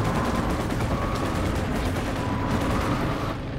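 Dense, continuous battlefield gunfire and heavy artillery blasts from a Company of Heroes 2 match, loud and layered with rapid overlapping reports and no pauses.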